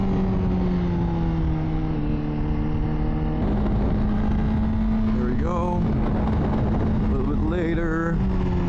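A 2024 Honda CBR600RR engine drones steadily at mid revs during cornering practice, pitch easing and then rising as the rider accelerates out of turns, with a couple of quick rev sweeps near the end.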